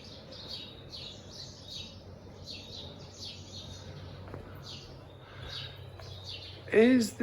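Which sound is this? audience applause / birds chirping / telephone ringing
birds chirping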